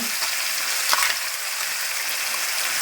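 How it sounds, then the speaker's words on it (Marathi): Ground fresh coconut chutney paste sautéing in a pan, giving a steady, fairly loud sizzle and hiss with a brief stir-like burst near the middle, no voices. "तर आता हे वाटलेलं टाकून द्यायचं चांगलं परतून घ्यायचं"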